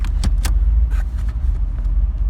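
A 1987 Chevrolet Camaro IROC engine idles with a steady low rumble, a few faint mechanical clicks and knocks sitting above it.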